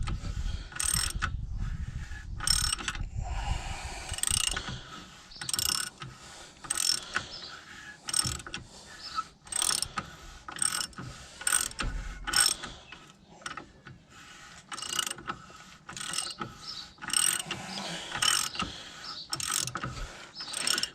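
Ratchet wrench driving an 18mm socket on the inner track rod end of a 2000–2007 Volvo V70, giving fast repeated clicking bursts of pawl ratcheting close up, with short pauses between strokes.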